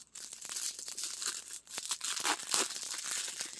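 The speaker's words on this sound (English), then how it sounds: "I think I'm going to have to cut this open, or at least start it." Cutting open an Amazon package holding an art supply item: steady crinkling and tearing of packaging material, close and continuous for several seconds with no voices.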